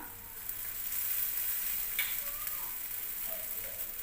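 A leftover ragi mudde flatbread fries in oil on a pan, giving a steady, close, continuous sizzle with a few faint ticks and no voices.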